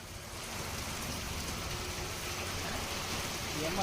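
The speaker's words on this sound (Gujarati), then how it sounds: "દરિયાકાંઠાના ગામોમાં વરસાદ વરસી રહ્યો છે।" Light rain falls steadily over coastal villages in the Talala area of Gir Somnath, Gujarat, a soft continuous patter of drops on surfaces with no voices.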